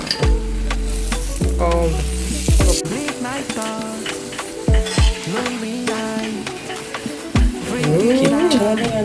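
A butternut chapati frying in oil on a pan and being turned, with a soft sizzle under scattered scrapes and taps of a spatula, a voice talking intermittently over it along with a brief exclamation.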